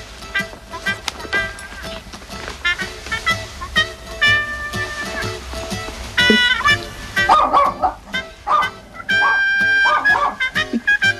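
A dog barks and yips in short bursts over steady background music, fairly close and loud, within a Japanese language lesson.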